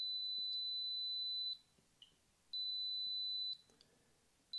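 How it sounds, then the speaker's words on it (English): A GammaGuard CT007-F Geiger counter alarm sounds near a strontium-90 ingot: a piercing steady high tone held for about a second, a pause, then held again, loud against a quiet room. "And that's the alarm going off."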